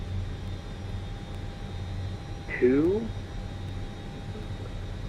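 Inibuilds L-1011 TriStar jet engines idling while taxiing in MSFS 2024, a steady low rumble and whine with a brief swept tone partway through, a voice speaking over it.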